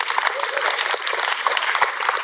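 Applause from a youth forum audience, dense continuous clapping from many hands, fairly loud and close, with a voice briefly heard over it.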